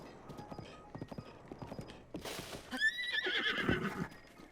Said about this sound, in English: That horse, it's huge. I've never seen one that big.